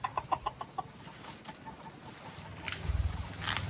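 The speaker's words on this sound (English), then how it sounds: "there's a fucking big chicken up there" A large chicken perched overhead inside an abandoned coffee shop clucks in a quick burst of short calls, then falls quieter amid steady ambient hiss, with a few louder squawks and rustles near the end.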